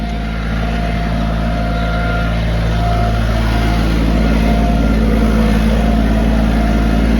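A Japanese tractor running while tilling soil with a rotary tiller, its engine a loud, steady, close drone with a constant low rumble throughout and no speech.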